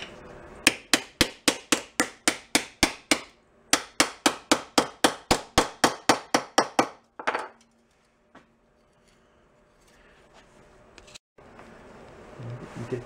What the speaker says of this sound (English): How about just beat it with a hammer?